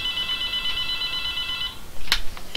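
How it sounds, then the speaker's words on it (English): A home telephone rings with a steady electronic tone that lasts well over a second before it cuts off, followed by a few short clicks and knocks as the handset is picked up, with no voices. "Hold on, have to answer the phone."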